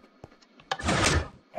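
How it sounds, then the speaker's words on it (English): Door opening in the Minecraft video game: a few light clicks, then a single loud near sliding whoosh with a low thunk, lasting about half a second. "Now I will exit the door,"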